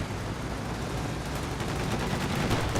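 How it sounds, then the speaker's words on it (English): Sustained gunfire from a reaction squad in Company of Heroes 2, a dense, continuous rattle of rifle and machine-gun shots with a heavy low rumble, loud and unbroken throughout. "Reaction squad firing away."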